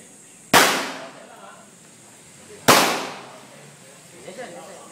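Two sharp, loud gunshots fire at Camp Crame about two seconds apart, each with a decaying echo, against a steady background with faint activity after.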